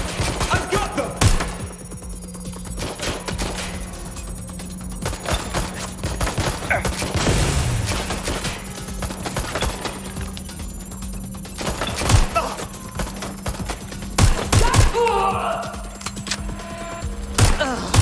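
Gunfire in the video game Watch Dogs: Legion, with repeated sharp shots and bursts scattered across a busy firefight, mixed with thuds and a voice speaking at points.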